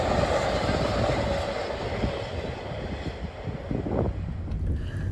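Union Pacific AC60 freight locomotives roll past with a loud, steady rumble and grinding wheel noise, mixed with gusty wind buffeting the microphone and no voices.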